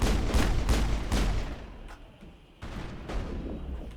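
Weapon fire in Mass Effect: a loud rapid volley of shots for the first second and a half, a short lull with scattered faint pops, then another burst of firing.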